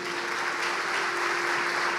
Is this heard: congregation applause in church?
yes